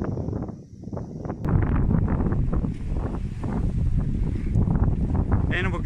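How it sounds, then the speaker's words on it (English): Strong gusts batter a smartphone microphone outdoors, a loud, steady roaring rumble that covers almost the whole stretch. "And we have some very strong wind right now."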